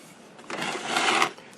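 Hand sanding on a glued-up Philco 49-901 radio cabinet case, smoothing its seams: a short, raspy scuffing stroke of about a second, fairly faint and close, with no talk.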